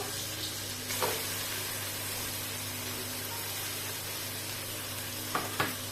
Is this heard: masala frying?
yes